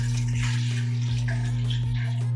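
Water splashes onto a spinning Tormek sharpening stone while a lawn mower blade is being sharpened, with soft trickling and spattering over the machine's steady low motor hum and faint periodic thumps.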